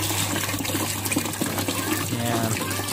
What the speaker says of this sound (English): It's flowing through like a waterfall.